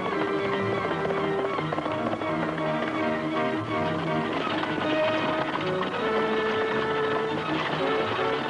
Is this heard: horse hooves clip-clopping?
yes